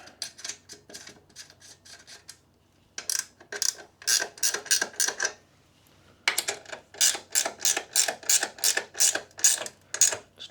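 A socket ratchet tightens a nut on a Honda Monkey 125 rear rack, making close, crisp bursts of rapid clicking in three runs separated by short pauses.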